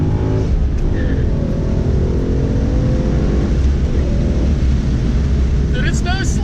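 A 435-horsepower Ford Mustang GT cruises with a deep, steady engine drone and road rumble heard from inside the car, loud and continuous, while people talk over it.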